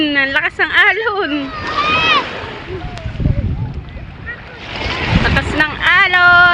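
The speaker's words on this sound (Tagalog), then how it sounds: "Ang lakas ng alon." Strong sea waves surge and wash at a beach in Talao, Dalahican, Lucena City, a broad rushing roar with wind buffeting the microphone, while excited voices and shouting children carry over it.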